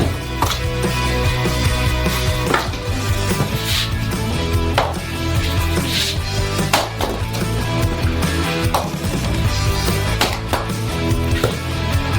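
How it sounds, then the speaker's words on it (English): Firewood is chopped outdoors in a steady series of sharp woody strikes, roughly one every second or so, fairly loud and close with a continuous background rumble underneath. "But first, we'll chop some wood and make a fire."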